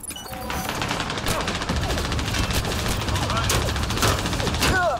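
Gunfire in the video game Mass Effect Andromeda, sustained rapid fusillade of shots and impacts with crashing debris, loud and continuous, with game voices briefly heard.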